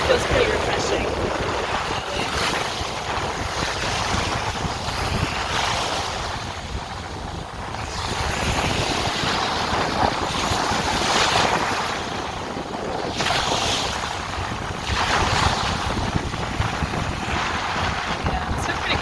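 Strong, steady wind roars across the microphone at a beach at Cancun or Isla Mujeres, Mexico, with waves washing in and rising in loose surges throughout.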